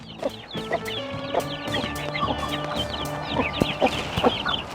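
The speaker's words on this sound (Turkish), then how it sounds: "Bizim sorumsuz tavuğumuz nihayet gurka yaptı ve civciv çıkardı." A hen with eight newly hatched chicks clucks in soft, repeated calls, with high chick peeps scattered throughout and no talking.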